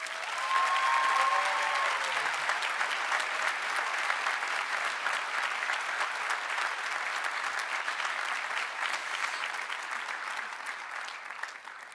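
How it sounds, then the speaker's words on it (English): A large crowd at a Cushing Academy commencement ceremony breaks into loud, dense applause. The clapping continues steadily for around twelve seconds and gradually tapers off. "Let's give Deb a round of applause"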